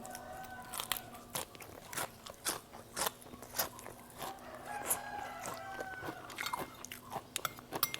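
Crunchy tiger jellyfish salad, spicy Thai style with crisp jellyfish, chewed close up in a rapid run of crisp crunching bites, with a rooster crowing faintly in the background.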